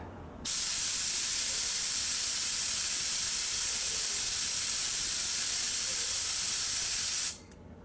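A loud, steady hiss of pressurized air from an air spray wand spraying oil mist starts abruptly, holds evenly for about seven seconds, then cuts off sharply.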